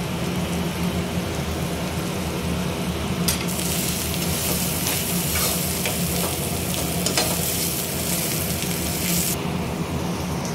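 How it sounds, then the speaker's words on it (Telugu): Grated carrot being stirred and fried in a pan for egg fried rice, with a loud continuous sizzle and constant stirring scrape that brightens and intensifies through the middle stretch. "తురిమిన క్యారెట్ని ఇందులోకి వేసుకొని బాగా కలుపుకోవాలి."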